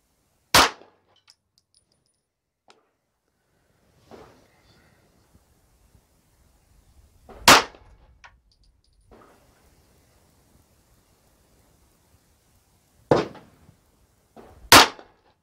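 A 9mm pistol fires Nosler and Sierra factory ammunition, four sharp, loud single shots spaced several seconds apart with a closely spaced pair at the end, faint clinks and rustles between them.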